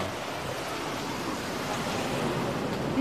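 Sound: ocean waves at an abandoned beachfront site

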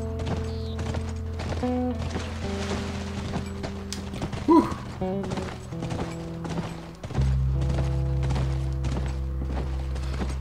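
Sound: horse hooves clip-clop in video game The Last of Us Part II

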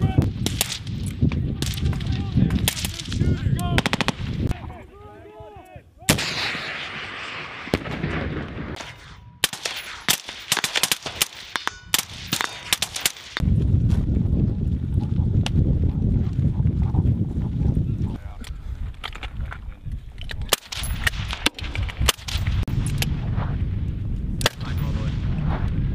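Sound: military gunfire during Marine squad attack exercise

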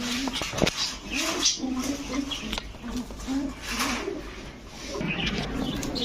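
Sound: pigeons cooing at a pigeon market

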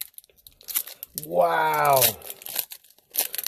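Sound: tearing open a trading card pack wrapper

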